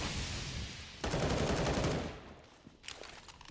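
Grenade explosion in Counter-Strike: Global Offensive during a pro match on the Nuke map, a loud broadband blast that sustains for about a second before fading, with a sharp smaller crack near the end.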